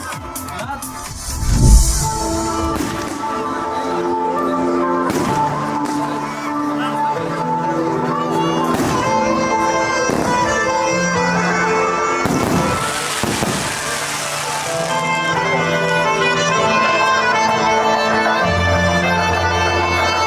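Fireworks pop and crackle in bursts above continuous music at an outdoor park concert, with one heavier thud near the start and scattered distant bangs.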